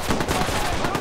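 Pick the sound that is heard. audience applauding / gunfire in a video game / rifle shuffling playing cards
gunfire in a video game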